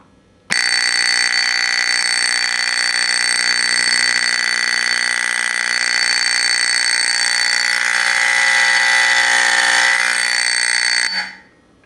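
A Simplex 4050 fire alarm horn blares one loud, unbroken tone on continuous code for about ten seconds, then stops abruptly.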